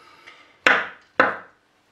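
Overripe banana cut into small pieces on a board gives two firm knife chops close up, each followed by a short wooden ring, after a faint tap.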